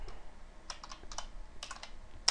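Quick, uneven keystrokes clatter on a computer keyboard in bursts of several taps, close and fairly quiet, ending with a sharper single key hit; no voices.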